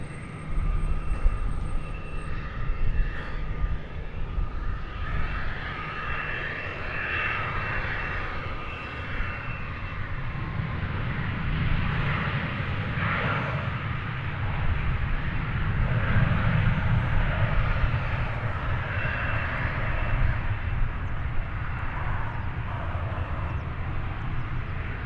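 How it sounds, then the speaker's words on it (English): Boeing 737-800 airliner on Flight 1034 from Guadalajara landing at DFW, a steady broad jet roar that swells slightly mid-pass and holds loud throughout, with no voices. "like Flight 1034 coming in from Guadalajara, Mexico"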